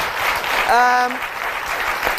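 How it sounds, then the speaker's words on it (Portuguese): A Portuguese television studio audience applauds a guest psychotherapist, steady clapping throughout, briefly overlaid by a rising tonal voice or sound near the middle. "Um aplauso para o Dr. Pedro Brás."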